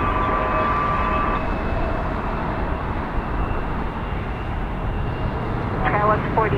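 An Airbus A330-200 airliner at LAX produces a steady, loud jet roar that fills the whole stretch, with a brief chirp of another sound near the end.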